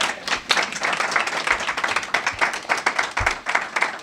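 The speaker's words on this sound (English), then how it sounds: "You can clap for that." An audience at a city funding announcement for Hilltop Villages claps, a loose crowd of hands beating in uneven, fairly close bursts for several seconds.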